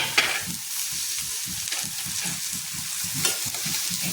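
Amla stirred into melting jaggery over a low flame, giving a continuous gentle sizzle with rhythmic spoon strokes turning the mixture every half second or so, close and steady, with no talking.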